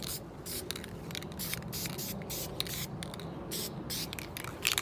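Short, steady bursts from an aerosol spray can laying a cheap, tacky base coat of paint onto the lower unit of a 1956 30 HP outboard motor, the hiss continuous with brief pauses and close to the microphone.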